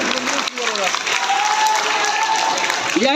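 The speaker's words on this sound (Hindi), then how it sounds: "सभी लोग से विधायक जी के लिए और विकास शर्मा जी के लिए एक बार जोरदार तालियां बजा दी जाए" A crowd gives loud applause for the MLA and Vikas Sharma at a Kurmi Mahasabha Patel Jayanti honour ceremony, close and sustained clapping with voices talking over it.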